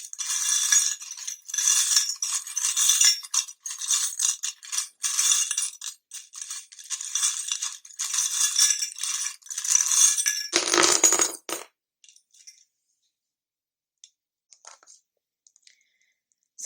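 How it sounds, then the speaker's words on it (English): Small metal charms are shuffled by hand for about eleven seconds, a bright, dense jingling and clicking in rapid bursts close to the ear, then a brief fuller rattle before they fall silent, with only a few faint ticks after. "I just love the sound of the charms, when you shuffle them"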